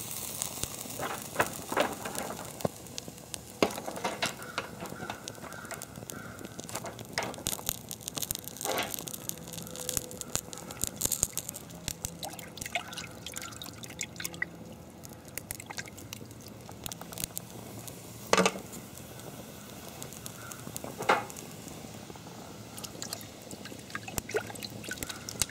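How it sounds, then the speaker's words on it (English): Soft crackles and irregular pops from a small fire burning wet wood, with faint sizzling hiss and occasional sharper snaps scattered throughout, quiet and close. "You can hear the sizzle. I'm putting them on there wet."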